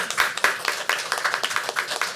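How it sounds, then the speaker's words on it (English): A small group clapping at a board meeting, scattered uneven claps close by, fairly light and thinning out over the couple of seconds. "At this time, and we can clap."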